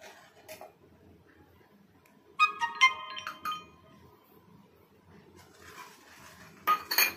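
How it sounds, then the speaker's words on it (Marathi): A spoon mixes milk and milk powder in a metal vessel for basundi, giving sparse close clinks and taps against the pot over a quiet background, with a few brighter ringing knocks near the start and end, with no voices. "एक वाटी दूध घेतलंय आणि अर्धी वाटी मिल्क पावडर घेतली आहे। ते आपण मिक्स करायचं।"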